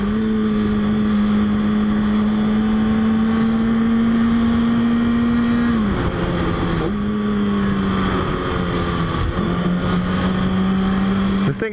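A car accelerating hard in first gear, a loud close engine drone rising steadily in pitch for several seconds, then dropping with gear shifts and climbing again; no talking.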